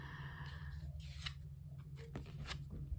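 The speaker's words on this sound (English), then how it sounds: "I'll give it another shuffle" Tarot cards being shuffled by hand make quiet, close, papery flicks and snaps at irregular intervals over a low background hum.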